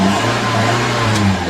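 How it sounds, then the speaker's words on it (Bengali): A Toyota Hiace engine turned over with the key, settling into a steady, loud mid-pitched running hum close by, with no talking. "এই হচ্ছে ইঞ্জিন স্টার্ট"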